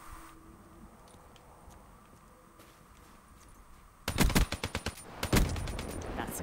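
Rapid bursts of automatic gunfire from a campaign gun in Black Ops 3 break out loudly after a quiet ambient lull, rattling in close repeated volleys toward the end.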